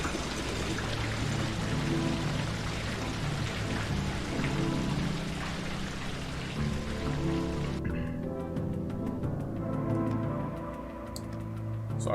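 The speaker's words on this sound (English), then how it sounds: "there are levers up here on the high platform to drain the water in the aqueducts" Water draining from aqueducts in the video game Monster Sanctuary, a continuous loud rushing pour that cuts off abruptly partway through, leaving faint ticking and trickling.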